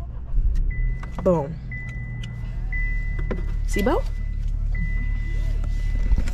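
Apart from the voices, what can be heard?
2024 Chevy Trax car during a test drive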